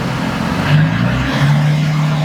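Idling engine of a Nissan G35 held at raised RPM while its cooling system is bled of air, a steady close hum with a slight rise in pitch midway and no talk.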